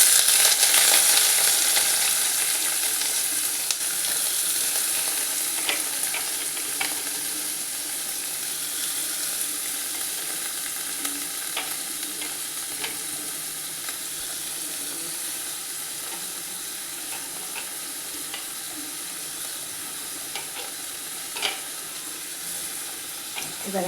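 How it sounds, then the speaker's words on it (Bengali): Onion fries in hot oil in a pan, a continuous close sizzle that holds steady and eases slightly over time, with occasional faint clicks. "তেলটা গরম হয়ে গেছে, আমি পেঁয়াজটা দিয়ে দিচ্ছি"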